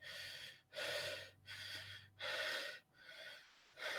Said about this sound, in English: just start panting heavy